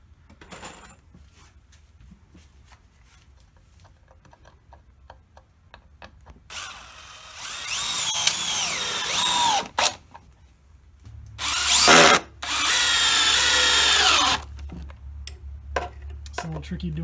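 A power drill drives 3-inch screws into 3/4 inch wood, two long loud whining bursts of the motor with quieter handling clicks and knocks between them.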